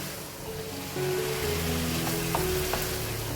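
Potatoes and peas frying in minced meat qeema in a pan: a steady close sizzle with a few light stirring clicks, and the frying grows a little louder partway through. No voices.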